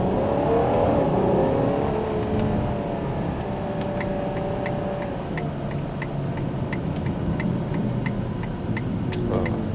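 A left-hand-drive four-door V12 supercar rolls through heavy traffic, its engine a steady low rumble close by with other vehicles murmuring around it and brief faint ticks on top.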